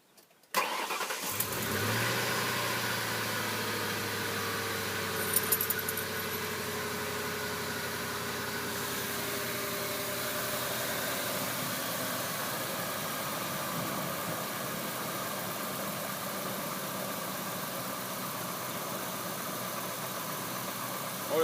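A 1998 Ford F-250 light-duty pickup with a 5.4 Triton V8 starts up after brief quiet, then settles into a steady, even idle that continues close by, with a faint low tick under the engine hum.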